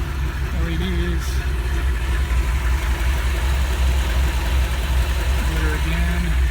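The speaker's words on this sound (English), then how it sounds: "Motor again." A 1973 Ford Bronco's engine runs at a steady idle, a loud, continuous low rumble heard up close with voices talking over it.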